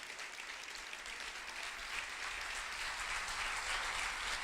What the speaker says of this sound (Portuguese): Aplauda mais uma vez, meu irmão.